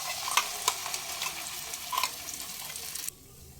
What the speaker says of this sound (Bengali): আদার কাঁচা গন্ধটা চলে গেলে পেস্ট করে রাখা কড়াইশুটি আমি দিয়ে দেবো সব